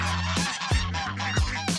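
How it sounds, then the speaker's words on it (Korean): Geese honk loudly in the early morning, as hungry birds wait to be fed tofu alongside chickens and ducks. The calls come as repeated harsh blasts with short gaps, close and overlapping, and no one speaks. "이른 아침부터 거위들이 절규하고 있다"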